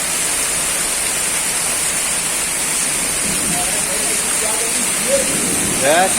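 Floodwater rushes through Volta Redonda in a loud, continuous wash of noise that holds steady throughout, with voices faintly audible near the end.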